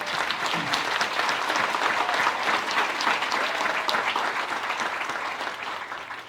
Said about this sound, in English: Another big round of applause for all the students.